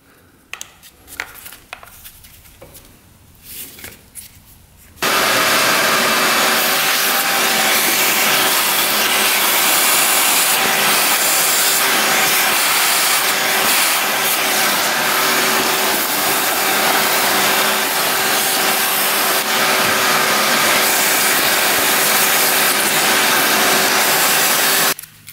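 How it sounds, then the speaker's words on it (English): A vacuum cleaner sucking debris out of the cylinder of a 1975 Honda 1000cc motorcycle engine that sat untouched for over 25 years; after a few seconds of quiet handling, a loud continuous whine and roar runs steadily to the end. "Get this all vacuumed out of there."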